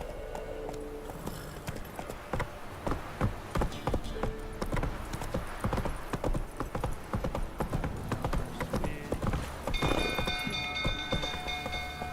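Roach the horse galloping in The Witcher 3, a fast rhythmic clip-clop of hooves close up and continuous, with game music tones and effects layered over it.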